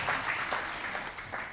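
Steady applause from a church congregation, a brisk clapping of many hands that fills the room without pause.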